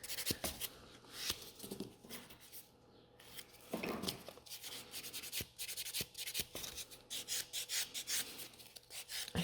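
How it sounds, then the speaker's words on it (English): A nail buffer works the free edge of a gel nail in short, uneven rubbing strokes, close and quiet, with scratchy bursts separated by brief pauses and no talking. "I also like to use the buffer, like to go again a little bit from underneath and perfect the free edge."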